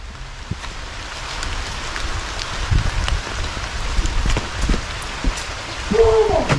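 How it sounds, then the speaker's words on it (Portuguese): Steady rain falls outdoors at night, a continuous patter of drops on surfaces with a little wind, holding at an even level throughout with a brief low tonal sound near the end. "Tá chovendo, hein?"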